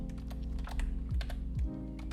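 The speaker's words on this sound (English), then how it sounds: "I was looking up there while I was typing" Steady typing on a computer keyboard while network settings are configured, a close run of quick key clicks over a low constant hum, with no talking.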